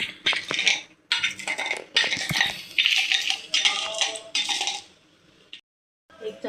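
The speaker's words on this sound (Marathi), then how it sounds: "मी हे शेंगदाणे मॅश करून घेते." Peanuts being mashed in a pan for a potato dish, heard as repeated metallic scraping and clinking of utensil against pan in short bursts, close and fairly loud, with brief pauses and no talk.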